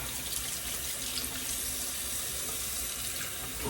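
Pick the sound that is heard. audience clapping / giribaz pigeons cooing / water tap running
water tap running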